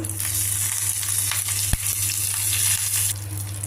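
Asafoetida and curry leaves hit hot oil for a tempering, giving a loud, close, continuous sizzle with a sharp crackle midway, over a steady low kitchen hum.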